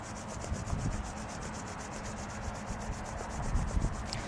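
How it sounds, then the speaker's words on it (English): Hands rubbed firmly together with fingers sliding between each other during a standing meditation cool-down, making a continuous close, dry, sanding-like friction sound that swells slightly near the end, with no talking. "Rubbing in between the fingers again."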